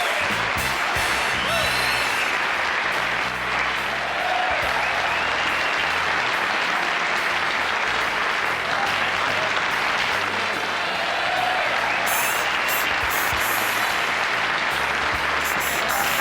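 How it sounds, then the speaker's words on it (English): Loud, sustained audience applause from the studio crowd of The Johnny Carson Show in 1981 fills the whole stretch, steady and dense throughout with no speech. "I'm humbled by that applause."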